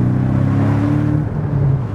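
A sporty turbocharged four-cylinder engine in a Porsche 718 Boxster S hums and revs nearby with a steady low drone that shifts pitch partway through.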